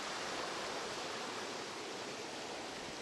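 The Fuas waterfall and its mountain stream in Friuli, at about 880 metres, give a steady, broad rushing roar of falling water, constant and unbroken, with no voices.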